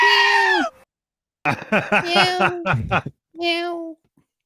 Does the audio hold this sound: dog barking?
no